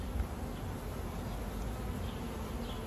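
Honeybees swarm close around a beekeeper during a hive inspection, a dense, steady buzzing drone that holds loud and unbroken throughout with no talk.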